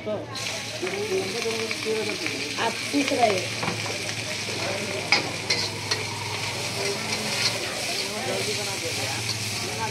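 Veg chowmein stir-fried by a street vendor in Kathmandu, a continuous close sizzle with clattering spatula scrapes against the pan, under nearby voices and busy street chatter.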